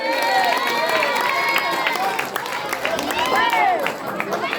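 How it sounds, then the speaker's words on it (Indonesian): Audience at a Balinese bondres comedy show breaks into applause and cheering, a dense wash of clapping with crowd noise and voices mixed in throughout. "Tepuk tangan."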